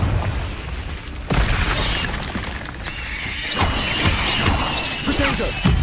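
A fire spell blasts in the Hogwarts Legacy video game, fighting a giant spider, with loud crashing, shattering bursts and booms layered under game noise and brief voices.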